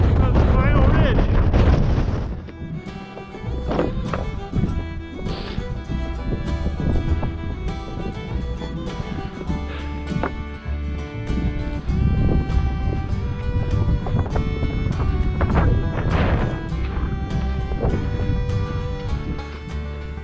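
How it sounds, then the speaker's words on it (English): Strong, sustained mountain wind roar on Mt Princeton's east slopes buffets the microphone with heavy low rumble, surging in intense gusts throughout after a brief louder burst at the start. "Some pretty intense gusts."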